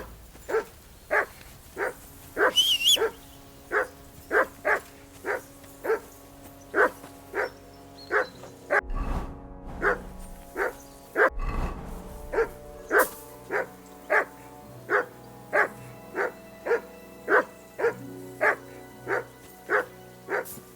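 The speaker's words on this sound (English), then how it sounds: "Jesus, Henry, that barking's driving me nuts." A dog in the video game Kingdom Come Deliverance 2 barks steadily and repetitively, about two sharp barks per second for the full stretch, loud and close, with a couple of low thuds along the way.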